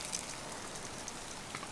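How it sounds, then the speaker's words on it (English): Rain falling steadily on a campsite, a soft even patter spread across the whole clip with no voices. "It's raining."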